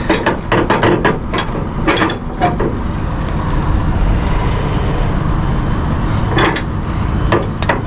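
A cargo strap winch on a flatbed truck being wound by hand, with loud, close ratcheting clicks in bursts and a steady rumbling background between them.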